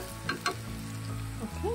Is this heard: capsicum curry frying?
yes